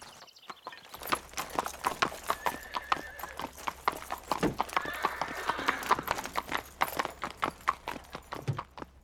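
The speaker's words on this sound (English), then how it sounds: "What a beautiful horse." Horse hooves clip-clop in a steady, close rhythm of many sharp beats, with a whinny breaking in midway, in a cartoon scene.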